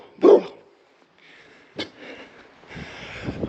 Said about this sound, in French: je m'attendais pas à des gros chiens comme ça.